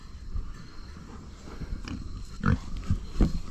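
Idaho pasture pigs in farrowing pens give several short, low grunts, growing louder and more frequent toward the end, close by with no talking.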